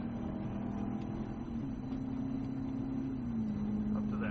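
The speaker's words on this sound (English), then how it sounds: "accelerate through them to 110 miles an hour" A Cadillac CTS-V Coupe accelerates on a racetrack, its engine a steady, droning hum heard from inside the car, with the pitch holding fairly level and a slight drop near the end.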